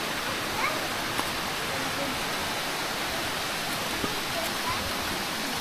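Bigaho waterfalls in Palawan pour in a steady, broad, dense rush of water, loud and constant throughout, with no break in the flow.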